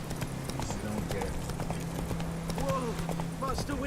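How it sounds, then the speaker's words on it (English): Horse hooves clip-clop in a quick, steady gallop in The Witcher 3, with someone talking over the rhythmic beats and ambient game sounds underneath. "You see a horse running, you just stand there?"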